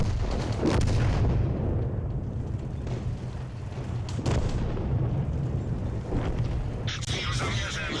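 Tank cannons fire in World of Tanks as heavy booms with rumbling tails, roughly a handful of shots spaced irregularly over a low engine drone, then a sharp metallic ricochet clang near the end, with someone talking over it.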